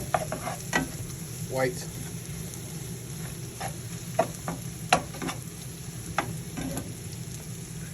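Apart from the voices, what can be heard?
tomato paste frying and being stirred in pan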